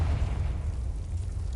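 A Confringo blasting curse explodes in Hogwarts Legacy as a deep, rumbling boom with a heavy low-end roar that holds steady and slowly fades over a second and a half.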